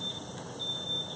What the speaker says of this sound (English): I should have disconnected the smoke detector.